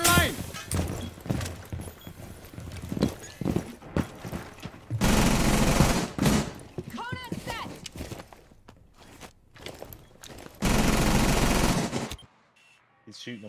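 Video game gunfire aimed at an enemy on stairs, with two loud sustained bursts of rapid automatic fire between scattered shots, footsteps and clattering, while voices talk at times.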